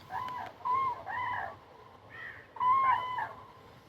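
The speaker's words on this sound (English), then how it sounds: "I can hear a buzzard there." A buzzard calls in the wild, somewhere in a Polish wetland area where beavers have felled trees, giving a few harsh, mewing cries spaced out over several seconds against a quiet outdoor background.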